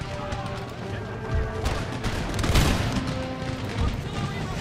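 Cannons fire in a battle in Empire Total War, a run of booming shots and crashing impacts rolling over one another in a dense barrage, with the loudest blast near the middle.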